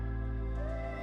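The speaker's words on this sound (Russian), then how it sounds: "Это реверснутый кик." A reversed kick drum effect for magic-spell sound design: a deep, booming low-end swell about a second long, dense and sustained rather than punchy, with no voice over it.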